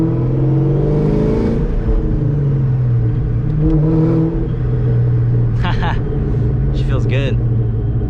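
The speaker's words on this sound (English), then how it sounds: "Wow, the exhaust sounds super good, super good." A car with an X-pipe exhaust and a stock T56 manual transmission revs and rumbles steadily throughout, loud and close, while a person talks over it.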